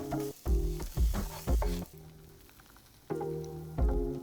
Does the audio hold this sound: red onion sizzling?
yes